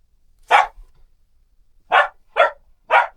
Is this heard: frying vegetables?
no